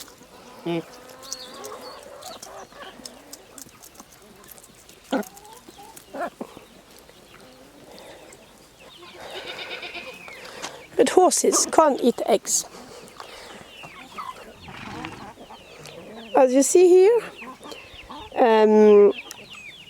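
Backyard hens cluck and squawk in short bursts that grow louder toward the end, with buzzing flies around them and someone talking over much of it.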